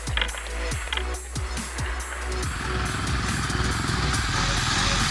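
A Husqvarna TE449 dirt bike being ridden outdoors, its engine a steady, rough drone that rises and holds loud and close, with brief rattles and wind noise over it.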